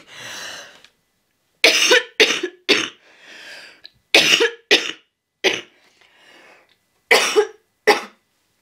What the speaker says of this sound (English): Wow, that was a big cough.